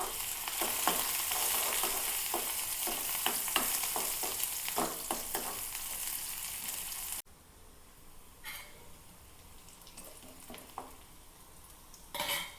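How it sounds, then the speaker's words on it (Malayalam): Shallots sizzle and crackle in hot oil in a clay pot, loud and steady with frequent sharp pops, then dropping abruptly to a quieter, sparser sizzle with occasional spits near the end. "അപ്പം നമുക്ക് 2-3 ഉള്ളി താളിച്ചിടാം കേട്ടോ"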